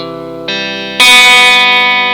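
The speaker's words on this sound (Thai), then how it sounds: "อันนี้เสียงคลีนปกตินะครับ" An electric guitar rings out in three clean, sustained chords, each strummed and left to ring, the last one brighter and louder.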